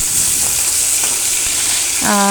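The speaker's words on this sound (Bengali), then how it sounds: "এখানে আমি বাকি মাছগুলো দুই দিকে ভাজা সেরে নিলাম" Fish fried on both sides in hot oil, a steady close sizzle filling the pan throughout, with a brief voice cutting in near the end.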